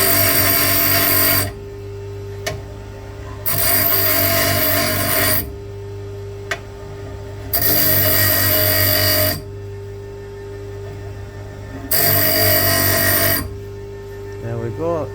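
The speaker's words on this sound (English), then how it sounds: "if I get the grinder and just power the grinder up" An angle grinder chamfering the end of a steel bar in a shed, running in four loud bursts of harsh, high-pitched grinding, each lasting about two seconds, separated by a steady motor hum between cuts.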